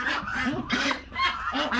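Ducks packed together on a large duck farm in Cambodia, honking and quacking in loud, overlapping bursts close by, a steady noisy flock chorus with repeated swells.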